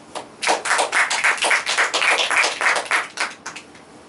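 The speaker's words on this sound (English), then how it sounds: "Can we have a good round of applause for these people?" A small crowd gives a round of applause during a talk, with distinct claps beating in a quick, fairly even rhythm, close and moderately loud, then thinning out and fading near the end.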